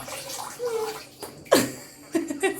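Water poured over a child's head during a bath, heard as a brief splashing gush with gurgling and dripping around it, close and moderately loud, with small voice-like sounds nearby.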